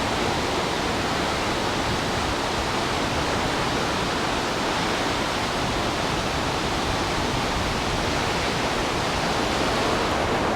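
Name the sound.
waterfall at Twilight filming location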